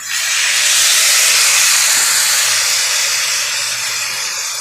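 Water hits hot spices (slit green chillies, chilli powder, coriander and cumin) in a pan for a fish roe curry, setting off a loud, close burst of sizzling steam that hisses strongly and then slowly fades.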